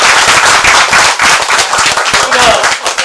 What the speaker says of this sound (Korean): 박수 치기 드리겠습니다.